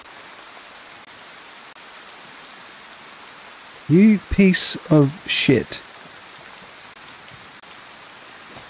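Cold rain in the DayZ video game, set in Chernarus, falls as a steady, even hiss throughout, while someone speaks over it briefly in the middle.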